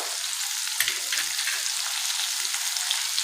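Slices of raw green mango sauté in a pan over low gas, giving a steady soft sizzle with a few light scrapes and stirs, close and alone without any voices.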